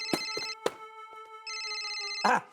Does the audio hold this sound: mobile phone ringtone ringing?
yes